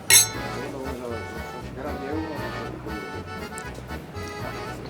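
Glasses clink together in a quick, bright toast over lunch at a Trastevere restaurant, a single sharp chime right at the start, followed by people talking and soft table clatter.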